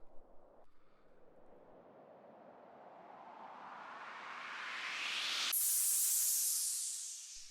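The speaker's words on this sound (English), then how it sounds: "like filter sweep sounds that sound like this." A synthesized noise filter sweep from an EDM loop library rises for about five seconds as a hiss that grows brighter and louder. It then jumps to a high, airy wash that fades at the end.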